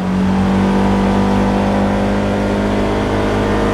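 A Ranger utility vehicle accelerates with a steady, loud engine drone and whine that holds strong throughout, heard close from on board with no voices.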